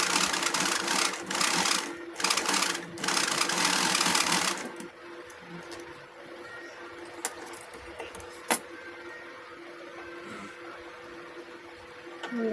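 Sewing machine stitching a blouse, a busy mechanical whir running for several seconds in bursts, then stopping; afterward only faint clicks, rustles and small handling knocks remain, fairly close.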